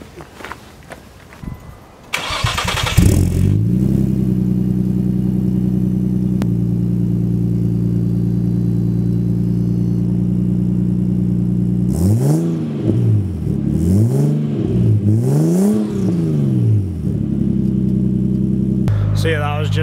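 A Nissan Stagea cold-starts: the starter cranks, the engine catches into a loud, throaty exhaust idle, then three quick low-rev blips rise and fall before it settles back to idle, recorded close.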